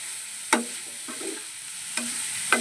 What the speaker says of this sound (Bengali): আবারও ভালো করে কষিয়ে নেব